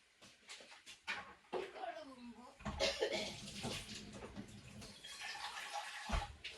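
Water pours steadily into a container from midway through, a continuous rushing splash, after a voice speaks near the start.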